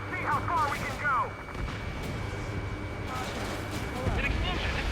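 Explosions rumble through a combat mission in the video game Ace Combat 7, a dense low roar that swells near the end under warbling radio-like tones and background effects.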